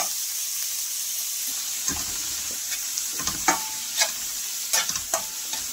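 Sliced onion fries lightly in a small amount of oil, giving a steady, bright sizzle throughout while a utensil scrapes and taps the pan in scattered bursts during the second half.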